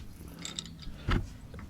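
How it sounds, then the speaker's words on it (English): A ratchet and socket removing the lower shock mount bolt on a Ram 2500 front shock: faint metallic clicking followed by one short, louder clunk, close and quiet. "remove this bolt using your ratchet and socket"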